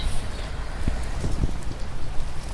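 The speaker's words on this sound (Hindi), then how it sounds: "ओह बारिश हो गई है बहुत ज़्यादा तेज गाइज, बहुत ज़्यादा तेज हो गई है बारिश।" Heavy winter rain pours down in a steady, dense broadband hiss with scattered louder drops and splashes, continuous and close throughout, with no voices.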